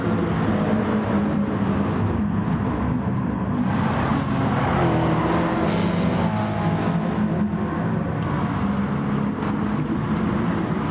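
Race cars lapping Autopolis in a multi-car GT lobby of a racing video game, a steady dense roar of several engines running together, loud and continuous throughout with no pauses.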